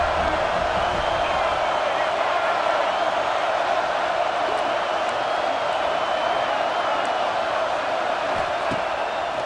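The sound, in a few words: football stadium crowd cheering, College Football 26 video game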